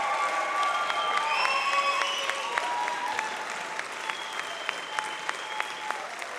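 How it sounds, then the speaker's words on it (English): Sustained applause from a seated-then-standing audience of parents at a senior high honor band camp concert, dense clapping throughout with a few sharper individual claps standing out near the end. "Let's go another standing ovation."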